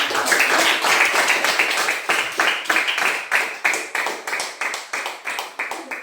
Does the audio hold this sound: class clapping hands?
yes